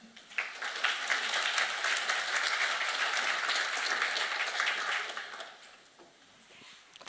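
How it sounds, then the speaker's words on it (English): An audience claps warmly to welcome a speaker, Dr. Haley Peckham, onto the stage, a dense sustained round of applause that swells, holds, then thins out and fades near the end. "I find it a little bit unnerving when I'm clapped before I've given the talk"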